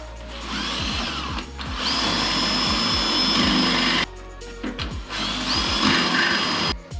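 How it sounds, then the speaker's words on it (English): A drill fitted with a specialist bit bores through a clamped jig during a campervan shower room build, its motor whining loud and steady in two long bursts separated by a brief pause. "comes with specialist drill bits, and you just drill that there."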